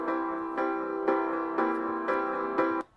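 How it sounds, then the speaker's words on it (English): A computer-generated MIDI piano riff loop in GarageBand plays six evenly spaced chords in a steady rhythm, clean and close, then cuts off abruptly. "Maybe we want a nice little piano riff in there."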